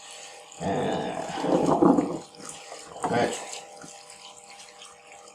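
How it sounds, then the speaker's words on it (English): Cold tap water gushing in bursts to rinse an Atari 2600 motherboard at a hot tub, two loud splashy surges with quieter running between, a voice speaking briefly. "This is cold water coming through the hot tub here actually."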